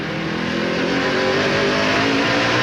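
Dodge race truck engines roar steadily at Martinsville during a NASCAR Craftsman Truck Series race, loud and continuous with a sustained high-revving drone and no voices.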